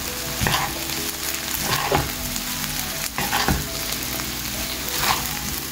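Onion, potato and poha sizzling in a hot pan as they are stirred and mixed, steady frying hiss broken by several scraping spoon strokes, close and fairly loud with no voices.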